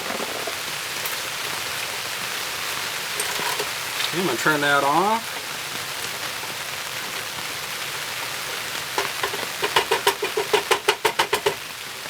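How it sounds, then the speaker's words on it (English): Steady hiss of rain falling, with a person speaking briefly and a run of rapid knocking taps toward the end. "as you can see now it's starting to rain"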